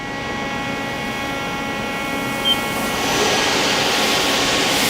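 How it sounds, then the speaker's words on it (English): A Mori Seiki Duraturn 2550 CNC lathe spindle runs with a steady whining hum and layered tonal lines, rising slightly in level partway through, continuous and close, with no talk. "And we'll run the spindle."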